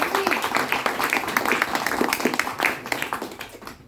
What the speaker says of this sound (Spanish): Señor, un aplauso para Luisito